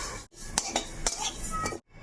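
Mustard seeds are stirred in a hot kadai with the gas off while a spicy mango pickle is being made. A utensil scrapes and clinks against the metal pan in quick, close strokes.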